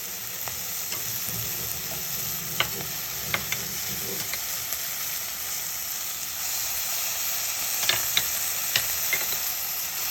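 Steady sizzle of pulao rice frying in a pan with yogurt, a constant bright hiss with occasional soft scrapes and taps of a spoon stirring, close and without talk.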